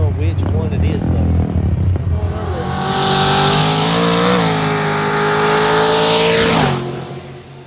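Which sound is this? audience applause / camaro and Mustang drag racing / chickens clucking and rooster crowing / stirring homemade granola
camaro and Mustang drag racing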